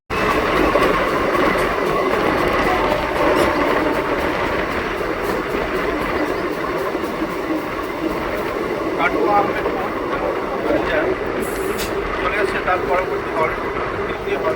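A Katwa–Ahmedpur MEMU train, the first of the morning, runs steadily with a continuous loud rolling rumble and wheel clatter, heard from on board or close by, with a brief higher squeal near the end.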